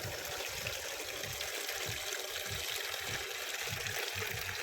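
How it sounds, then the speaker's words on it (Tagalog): Water poured into a container for watering garden plants, flowers and vegetables at home, a continuous close splashing, gushing flow with low burbling pulses, with no voices. "Lagyan ko pa ulit ng tubig."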